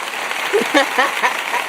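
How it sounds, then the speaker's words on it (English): A studio audience gives a round of applause on a talk show, a steady wash of clapping with cheering voices rising over it for a couple of seconds. "We get a round of applause."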